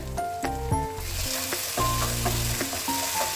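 Tomato masala for prawn biryani sizzling steadily in a hot pan, a loud continuous frying hiss with faint tonal sounds underneath.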